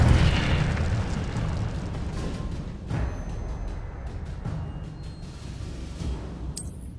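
Incendio fire spell cast in the video game Hogwarts Legacy, a sustained roaring burst of flame with a few sharper whooshing bursts along the way, loud and continuous with no talk.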